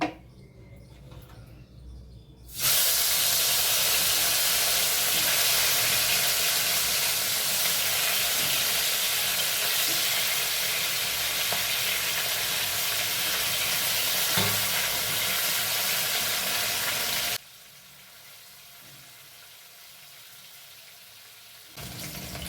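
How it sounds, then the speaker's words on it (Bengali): Boal fish frying in hot oil in a home kitchen, a loud, steady crackling sizzle that starts abruptly after a quiet moment, holds for about fifteen seconds, then drops to a faint hiss. "তেল গরম করে নিয়ে আমি এখন মাছগুলো ভালো করে ভেজে নেব"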